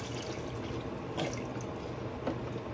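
Broth pouring into a pot, a quiet continuous watery trickle with a couple of faint splashes, close and alone.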